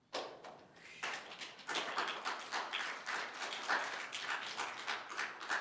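Applause breaks out at a Village of Gurnee public hearing and regular board meeting, a room of people clapping steadily for several seconds at moderate distance, with no talking over it.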